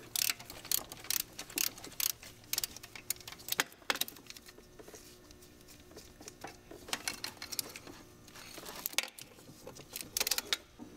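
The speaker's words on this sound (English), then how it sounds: "remove the intake manifold support bracket using a 12 millimeter socket" Metallic ratcheting clicks and light jangling of a ratchet with a 12 mm socket loosening the intake manifold support bracket on a Volvo 850 Turbo, coming in quick bursts with short pauses between, close and moderately quiet.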